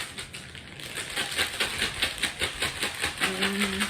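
Rhythmic rattling and shaking of tarot cards inside a bag, a regular pulsing swish that repeats about three times per second.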